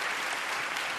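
Dense, continuous applause fills the chamber at the State of the Union address as Democrats clap, a loud, even wash of many hands with no voices.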